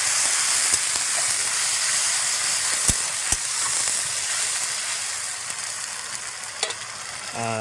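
Chicken sautéed in a pan with a splash of water sizzles loudly and steadily, with a few sharp, close spatula knocks and scrapes as it is stirred.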